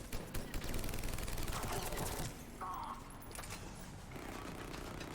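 Light machine gun fire in Mass Effect 3, rapid sustained bursts of automatic shots rattling for a few seconds amid game noise, moderately loud, then easing off.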